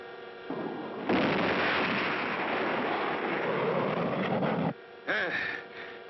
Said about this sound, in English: That's the second stage lighting up.